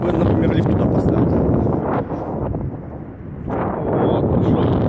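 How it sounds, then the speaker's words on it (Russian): Cold wind gusting hard at a tower on the North Sea coast in Germany near Denmark, a steady rushing roar buffeting the microphone that dips briefly in the middle and then surges back. "Ветер дует."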